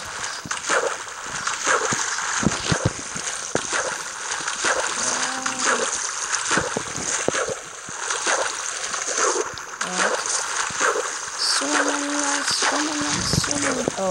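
People swim and splash through water during a race, with choppy, repeated splashes and sloshing close by and voices and shouts mixed in throughout.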